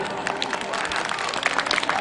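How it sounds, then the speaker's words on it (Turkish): A crowd at the Gülpınar village keşkek festival breaks into lively applause, a dense patter of many hands close by, with voices mixed into the clapping. "Bir alkışla siz kendinize yapın ya"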